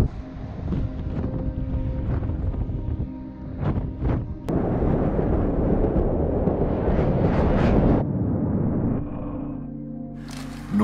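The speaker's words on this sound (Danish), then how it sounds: "Kan I høre det? Snestormen raser." Howling snowstorm wind in northern Iceland buffets the microphone in roaring gusts, rising and falling, with a low rumble underneath before dropping off near the end.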